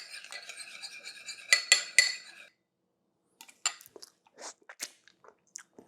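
Utensil scraping and clinking against a bowl while mixing a mustard sauce, a run of close, sharp clacks followed by a pause and then scattered lighter taps and stirs, with no talking.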